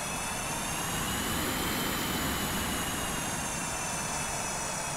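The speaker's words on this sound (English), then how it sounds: "F-18 402 engine sounds, but as they basically share the same engine, they probably sound the same anyway." Steady jet engine roar of a Boeing-SAAB T-7A Red Hawk trainer in Microsoft Flight Simulator, a continuous broadband rush with a faint high whine, loud and unbroken throughout with no talking.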